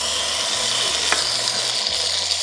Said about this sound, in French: je vais faire les foies de volaille, je vais les faire cuire directement dans cette poêle.